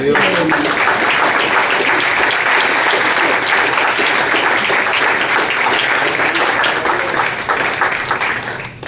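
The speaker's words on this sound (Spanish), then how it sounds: "Démosle un aplauso." Congregation at a Spanish-language church service bursts into loud, sustained applause, dense clapping mixed with cheering voices, holding steady for about eight seconds before beginning to fade.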